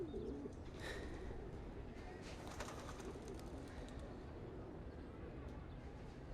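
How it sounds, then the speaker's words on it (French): Pigeons cooing on a roof during a tennis match, soft low coos under a steady murmur of background noise, with a few faint higher chirps. "Ces pigeons foutent en l'air ma concentration"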